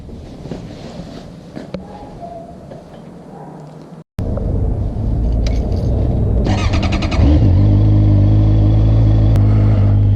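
A Honda CBR650F motorcycle engine runs close by. A low rumble turns into a loud, steady droning hum after a brief cutout, with wind buffeting over it.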